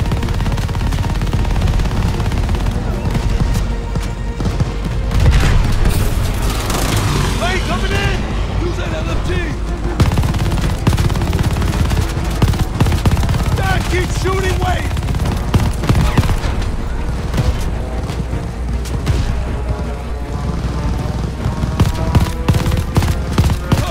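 Cover fire in Call of Duty Vanguard during the Battle of Bougainville on the Pacific front, dense continuous bursts of rifle and machine-gun fire rattling throughout, loud and close, with shouted voices over the shooting.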